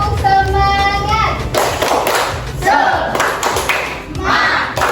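Schoolchildren in a classroom doing the tepuk semangat rhythmic clapping chant, bursts of sharp group claps with thumps, mixed with children's voices and a sung tone at the start.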